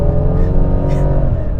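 Mercedes-Benz CLS550 V8 engine droning loudly and steadily up close, a dense low rumble with layered harmonics that holds at a constant pitch throughout.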